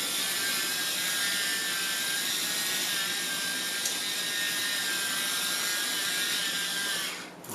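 Black pepper being ground by hand over a chicken and pasta casserole, a steady close grinding rattle that runs without a break for several seconds and then stops.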